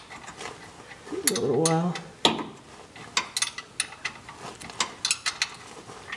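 A ratchet clicks in short bursts while tightening during an oil change on a C5 Corvette, quick rapid ticks close by, with a brief spoken phrase and a grunt early on.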